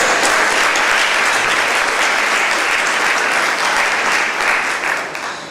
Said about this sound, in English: Another round of applause for our competitors.